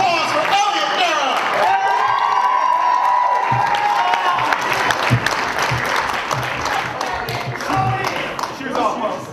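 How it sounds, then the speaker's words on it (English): Crowd at a university poetry grand slam final breaking into applause for a poet, loud sustained clapping mixed with cheers and whoops, an announcer's voice carrying over the start before the noise tapers slightly. "Let's give a big round of applause for Elliott Darrow."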